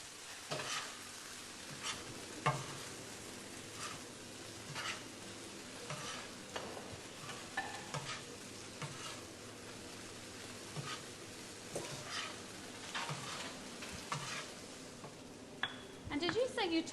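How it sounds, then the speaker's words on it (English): Mushrooms and tofu are stirred in a hot frying pan for a Thai noodle dish, with a steady sizzle and repeated scraping strokes of the utensil against the pan, close up, running continuously throughout. "At this stage, we want to mix in our mushrooms and our tofu."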